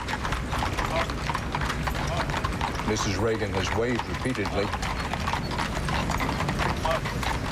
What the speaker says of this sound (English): the horse-drawn caisson carrying the casket and the riderless horse